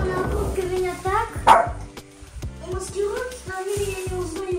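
Several dogs bark in short repeated bursts, some yips mixed in, close by and loud, while people converse in Russian between and over the barking.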